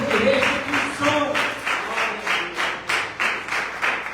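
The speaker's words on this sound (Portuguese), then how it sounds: "aplauda bem forte ao Senhor" Congregation clapping hard during an evangelical sermon, a loud rhythmic wave of applause with regular surges about every half second, close and sustained, with a voice faintly underneath.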